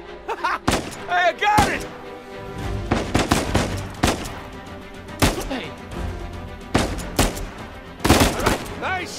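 Rapid gunfire in the game Uncharted 4: loud repeated shots and bursts crackling through a firefight, with someone shouting briefly between volleys.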